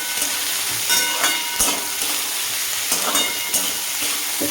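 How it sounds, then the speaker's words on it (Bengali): Cashews and green chilies fry in hot oil in a pan, giving a steady close sizzle with occasional stirring scrapes and small bursts of crackle. "কাজু আর এই কটা কাঁচা লঙ্কা দিয়ে আবারও ভালো করে এটাকে ভাজবো"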